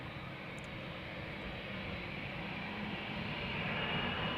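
A KLM Boeing 787-10 Dreamliner departing Amsterdam Schiphol for Los Angeles, a steady broad engine roar at moderate distance, swelling slightly as it goes, with no voices.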